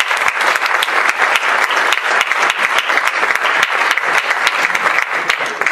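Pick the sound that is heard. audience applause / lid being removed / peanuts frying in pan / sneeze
audience applause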